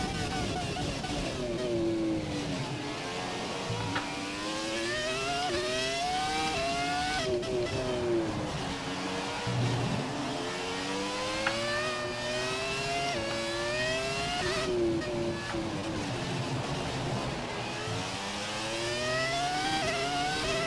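A Formula One race car in the F1 2017 video game screams through repeated upshifts, engine pitch climbing and dropping in a steady rhythm with each gear change, loud and continuous.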